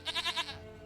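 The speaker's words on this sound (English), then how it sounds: "Goat of mine, dearest, sweetest goat." A goat bleats in The Witcher 3, a short wavering cry of about four pulses, then trailing off into a faint background hum.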